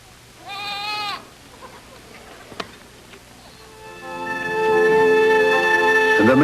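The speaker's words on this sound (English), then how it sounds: "that Jacob laid the rods before the eyes of the cattle in the gutters, that they might conceive among the rods" Goats or sheep bleat in a scene of Jacob's cattle and flocks, with one clear bleat early on, followed by a sustained, louder, tonal animal cry building near the end, plus faint insect buzzing.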